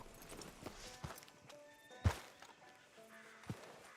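Horse hooves clip-clop at an easy walk in the Red Dead Redemption 2 western video game, a few irregular thuds close by with one sharper knock, over a faint ambient bed and no speech.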